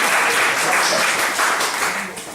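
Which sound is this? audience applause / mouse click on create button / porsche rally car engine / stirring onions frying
audience applause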